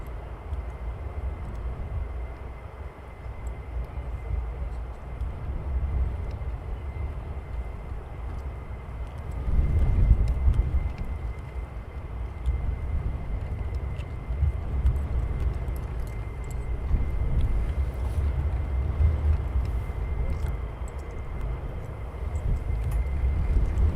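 Distant jet engines spooling up at RAF Lakenheath, a steady low rumble that swells for a moment and then holds, all without talk.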